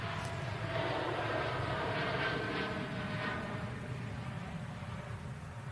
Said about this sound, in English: TUI Dreamliner going out next.